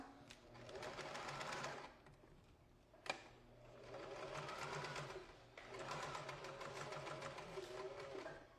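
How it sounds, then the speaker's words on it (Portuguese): A sewing machine topstitches the lapel of a furry corduroy jacket, running in three steady bursts of rapid stitching with brief pauses between, close and clear. "vou fazer o pesponto aqui da lapela"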